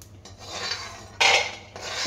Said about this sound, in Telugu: ఫస్ట్ పల్లీలు బాగా వేయించుకోవాలి